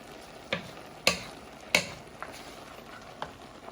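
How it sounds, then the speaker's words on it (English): Bolognese sauce stirred slowly in a pan: a few sparse, soft clicks and scrapes of a utensil against the pan edge over a faint background, quiet and close. "you just carefully want to slowly keep stirring it in so it doesn't all fall out"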